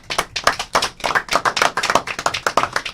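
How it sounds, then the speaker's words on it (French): A small audience claps for a musical performer, a close burst of fast, uneven handclaps continuing steadily at moderate loudness with no voices. "on peut l'applaudir ici."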